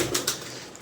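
Pigeons, including a female brooding on eggs, coo softly in two brief, closely spaced bursts, then fall quiet against faint background noise.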